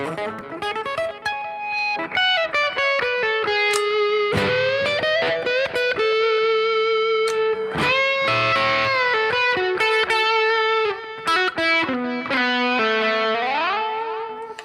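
An electric guitar with one volume and tone control removed plays a melodic distorted line through effects, switching between pickups. Notes sustain and bend, with brief pauses between phrases, loud and close with no talking.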